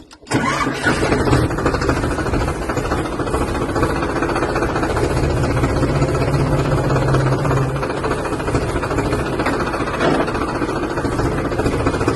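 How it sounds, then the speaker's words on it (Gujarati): A tractor engine cranks and catches, then runs loud and close with a steady diesel rumble as it moves off, the note shifting slightly partway through. "ઓલું ટ્રેક્ટર આપણે મિત્રો અંદર પૂરી દઈએ।"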